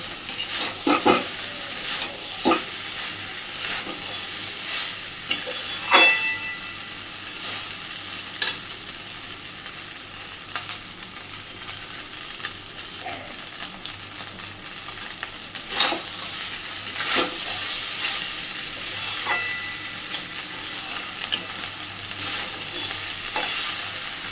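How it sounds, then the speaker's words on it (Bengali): A spatula stirs and mixes prawn rice in a frying pan, giving irregular close scrapes and clatters over a soft, continuous sizzle, with no voices. "সুন্দরভাবে মিশিয়ে নিয়েছি সব কিছুকে।"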